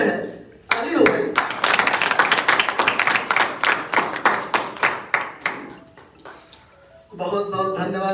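An audience at a Sharda competition award ceremony breaks into sustained, lively applause lasting several seconds, fading slightly before a voice takes over at the end.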